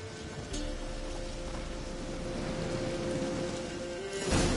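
Storm in The Witcher 3 game world, with a steady hiss of rain and a low rumbling wash beneath it, growing slightly louder near the end, and no talk.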